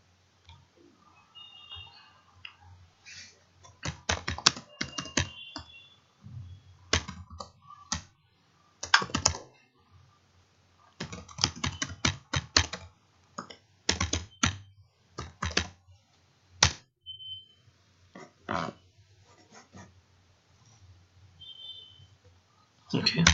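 Close, quiet typing on a computer keyboard while Python code is written, with irregular bursts of rapid key clicks separated by short pauses, with a few pauses filled by soft speech.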